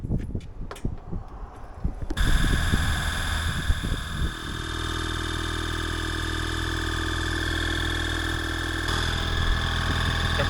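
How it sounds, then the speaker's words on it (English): An air compressor inflates an inflatable SUP through an adapter, starting after a few seconds of clattering handling noise and then running as a steady, loud, even drone to the end. "Compressor's still working great."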